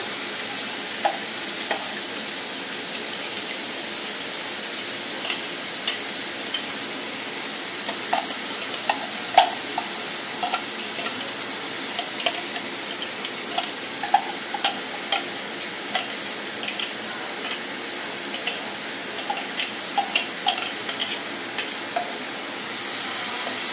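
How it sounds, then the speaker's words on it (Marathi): Three large chopped onions sauté in hot oil in a kadhai, giving a steady, even sizzle throughout with scattered small spatters and occasional light stirring clicks, fairly close and without any voices. "कांदा चांगला परतत आहे"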